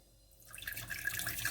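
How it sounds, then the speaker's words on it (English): Boiling water is poured into a saucepan, starting with a faint trickle and building into a steady splashing stream that grows louder over a second and a half. "then I'm gonna tip in my boiling water in there."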